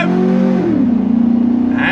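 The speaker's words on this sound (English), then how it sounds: "Love the sound of that V8." A 2004 Chevrolet SSR's rear-drive V8 pulls hard under throttle, a loud, close engine drone that drops in pitch at a shift and then holds a steady, throbbing growl.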